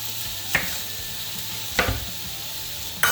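Beef browning in a pot, a dense continuous sizzle close up with three sharp stirring scrapes spaced about a second apart.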